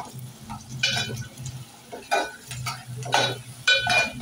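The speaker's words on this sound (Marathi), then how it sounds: "टोमॅटो आणि कांदा दोन्ही एकत्र शिजवून घेऊया" Chopped onion and tomato cook together in a pan, stirred in short scraping bursts with a soft sizzle underneath, several distinct spoon strokes spread across a few seconds, for a mixed sprouts curry.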